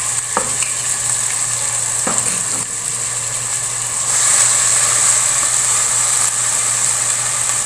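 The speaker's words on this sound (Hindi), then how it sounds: "प्याज को थोड़ा सा हमने सौते करना है, बहुत ज़्यादा ब्राउन नहीं करना।" Onions sautéing with fenugreek seeds in hot oil, a loud continuous sizzle with a few sharp stirring clicks early on, the frying swelling a little louder partway through over a low hum.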